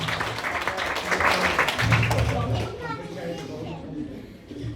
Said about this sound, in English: could you please give a massive round of applause to Amy Lee and Clara, the Flower Girls